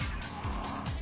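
Redback Spyder sports car cornering, a steady loud engine roar with repeated rising and falling pitch sweeps as it drives past, no speech.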